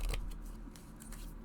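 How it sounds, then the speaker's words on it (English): Tarot cards being shuffled, soft papery riffling and sliding in short bursts, close and quiet. "Should be okay to shuffle them. Rifle shuffle, poker shuffle,"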